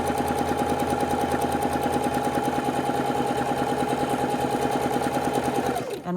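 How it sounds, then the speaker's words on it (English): A domestic sewing machine runs steadily while chain stitching a stack of quilt blocks, a close, continuous motor whir with rapid needle rhythm that stops abruptly at the end. "we're just going to do a stack of these, chain stitching them together"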